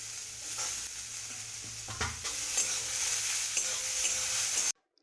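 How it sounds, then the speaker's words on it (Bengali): Potato and eggplant pieces fry in a pan with a continuous close sizzle and occasional stirring scrapes, ending abruptly in silence. "ভালো করে ভেজে নিতে হবে"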